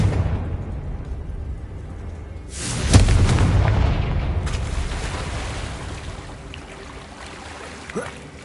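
A Confringo spell explodes in the video game Hogwarts Legacy, a deep, loud boom that bursts suddenly and rumbles away over a few seconds, followed by a smaller pop.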